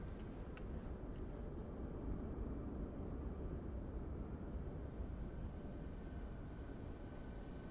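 In Microsoft Flight Simulator 2024, an aircraft taxiing gives off a faint, steady engine drone and broad rumble that stays even throughout, with no talking.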